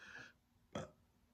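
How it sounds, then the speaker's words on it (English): Two quick burps in a row, the first a short higher belch and the second a louder, fuller one, close and alone against a quiet room. "That's a double burp."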